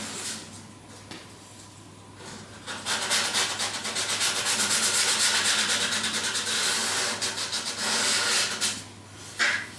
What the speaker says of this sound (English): So I'm going to take a little bit of sandpaper